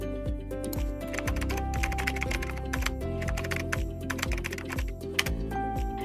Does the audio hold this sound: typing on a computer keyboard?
yes